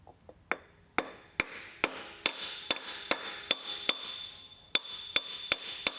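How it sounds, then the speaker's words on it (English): Metal clanks as a very big socket is hammered to tap an oil seal into a 2018 Ford Explorer engine, roughly a dozen crisp ringing taps at a steady pace, close up with no talking. "we'll just use a socket, a very big socket, to tap our seal in there."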